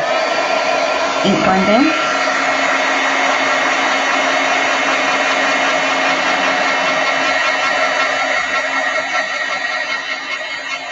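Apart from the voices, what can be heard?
heat tool heat setting stamped ink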